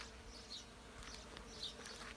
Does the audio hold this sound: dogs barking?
no